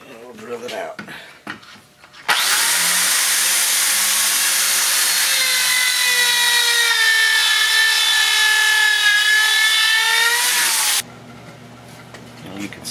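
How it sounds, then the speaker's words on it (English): A power drill bores through wood clamped for a rustic bench, a loud continuous whining grind lasting several seconds before stopping abruptly. "And we'll drill it out."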